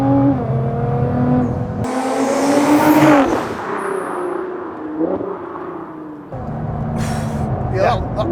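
A 767 BHP Litchfield Stage 4.5 Nissan GTR launches hard from inside the cabin, its engine note climbing through rapid gear changes with loud whooshes and turbo sounds, while occupants talk over it.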